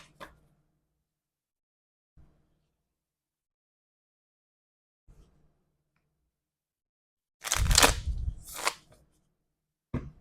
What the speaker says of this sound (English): And I will give them a shuffle as best I can.